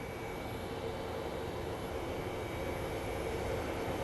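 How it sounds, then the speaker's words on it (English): Engine roar from a departing Airbus airliner in US Airways livery at Phoenix Sky Harbor International Airport: a steady, moderately distant broadband rush that stays constant, with no talking. "it looks like our US Airways livery, Airbus, is departing as well"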